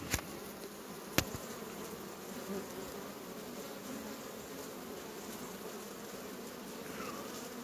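A honeybee colony at the hive gives a steady, dense buzzing hum, close and constant, with a couple of sharp clicks near the start.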